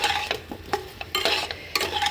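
Partly boiled taro is stirred and fried in a pan, giving repeated scraping strokes about every half second over a soft, steady sizzle, close and fairly loud with no talking.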